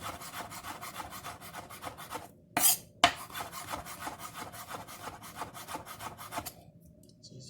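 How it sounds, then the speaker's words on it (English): A knife cuts rapidly through mushrooms on a board, making a fast, even run of rasping strokes close by. There is a brief clatter midway and the slicing stops near the end. "I just took the stem off and then just slice them"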